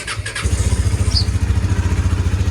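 A motorcycle cold start: a few brief clicks, then the engine catches and settles into a loud, close, rhythmic idle thump that holds steady to the end.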